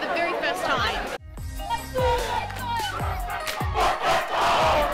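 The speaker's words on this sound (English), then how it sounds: "Behind me, a crowd eagerly awaits the arrival of Jacinda Ardern to open Te Auaha to the public for the very first time." A crowd gathered outdoors at the opening of the Te Auaha creative campus in Wellington, awaiting Jacinda Ardern, with loud chatter, shouts and bursts of cheering rising and falling throughout.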